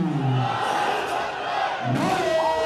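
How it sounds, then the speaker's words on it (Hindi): A large crowd at the Wagah border flag-lowering ceremony roars with loud, sustained shouting and chanting of slogans, rising and falling, with cheering and clapping swelling near the end. "नारों की आवाज़ है, तालियों की गूंज है, अवाम का शोर है"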